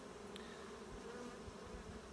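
Honey bees buzz at an open, healthy hive, a faint, steady, dense hum of many wings with no other sounds.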